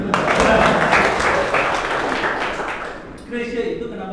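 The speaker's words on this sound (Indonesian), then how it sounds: "Tepuk tangan dulu." Audience applause at an inspirational talk, a dense wash of clapping lasting several seconds, loud and close, thinning briefly before picking up again near the end, with voices mixed in.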